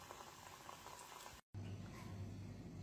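Puris and kadakanya fry gently in oil over a low gas flame, a soft, steady bubbling hiss broken by a brief silent gap midway, faint and without talking.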